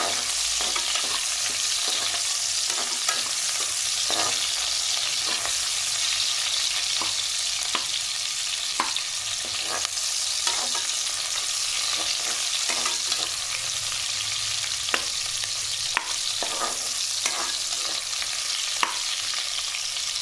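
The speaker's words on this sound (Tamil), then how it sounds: "இப்போ வெங்காயம் வதங்கிட்டுருக்கு." Chopped onion and a green chilli sauté in a pan, a steady broadband sizzle running throughout with regular scraping stir strokes tapping through it, close and constant with no talking.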